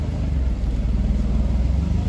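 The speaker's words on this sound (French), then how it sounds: "Stelvio Quadrofolio Verde blanc." A white Alfa Romeo Stelvio Quadrifoglio Verde in Monaco gives off a deep, steady engine rumble that pulses evenly as it rolls past close by, loud and alone.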